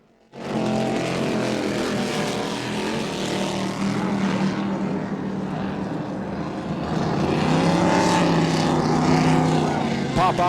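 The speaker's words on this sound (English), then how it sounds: "it's going to be a drag race between the piston power and the turbine boats to that first turn" Piston and turbine racing powerboats at the Cocoa Beach grand prix, with a loud, sustained engine roar that swells toward the end as the boats run close by.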